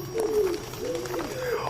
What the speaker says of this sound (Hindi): ये इतने सारे कबूतरों की आवाज कहाँ से आ रही है? वो भी इतनी रात को।